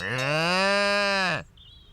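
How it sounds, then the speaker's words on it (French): A cow gives one loud, drawn-out moo that holds steady for over a second and then drops off sharply, close and clear with no talk over it. "Mais ton ami, c'est une vache?"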